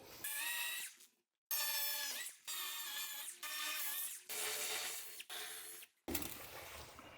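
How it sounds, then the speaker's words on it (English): Power drill boring a quarter-inch hole through dense porcelain tile during a toilet and bidet install: a loud, high grinding whine in several bursts separated by short pauses. "so we're going to drill this with a 1/4-inch hole."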